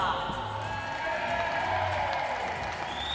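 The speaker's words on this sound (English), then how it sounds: "Let's hear a big cheer for Malta." Travelling supporters in an arena cheer for Malta at an under-17 match, a broad sustained roar of crowd noise with whoops rising over it, loud and continuous.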